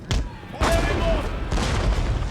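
Artillery fire in the Total War strategy game: a few heavy booming blasts in quick succession, loud and close, mixed with battlefield clamor and shouted voices over the top.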